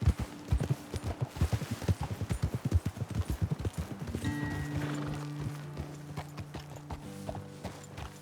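Horse hooves gallop in Red Dead Redemption 2, a rapid, rhythmic clip-clop close by for several seconds, then easing off as a horse whinnies and snorts, with a low tonal background sound underneath.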